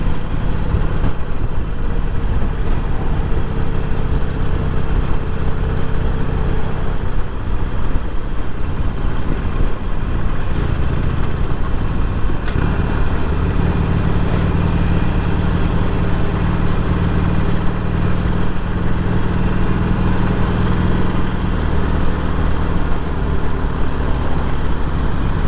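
A 2019 Harley-Davidson Iron 1200 Sportster engine idles steadily up close, a low throbbing exhaust with a mechanical ticking from the valves running throughout.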